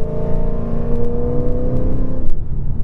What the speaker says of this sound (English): So it's got one of the best sounding exhaust setups for this car